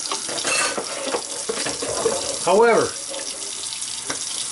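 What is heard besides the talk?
water spray rinsing a meat slicer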